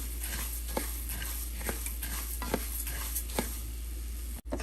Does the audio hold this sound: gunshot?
no